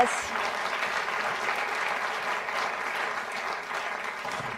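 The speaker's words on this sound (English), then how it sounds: "It's a big round of applause to you all." Audience applause for debate panelists at a Bloomberg TV forum, an even, sustained patter of many clapping hands at moderate level, fading slightly toward the end.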